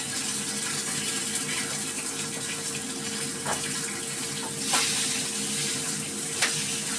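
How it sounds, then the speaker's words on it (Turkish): Cornmeal-coated food frying in a pan gives a loud, steady close sizzle and crackle with a few sharper pops. "Şimdi onları kızartıyorum."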